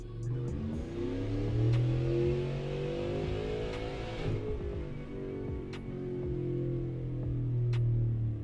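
A supercharged, cammed Chevrolet Silverado with a 416 engine revs hard in third gear on a dyno, its pitch climbing steadily to a loud peak, then easing off before rising once more, with no talk.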